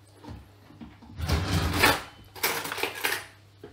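A small teaspoon knocks and scrapes against a pot while balls of dough fry for loukoumades, giving a few clustered metallic clinks and rattles in two main bursts, close by and without speech.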